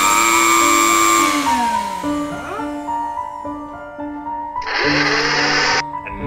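A vacuum cleaner running at high power suction, a steady whining motor with pitch sweeps and shifts, loud and close, with a burst of hissing air near the end.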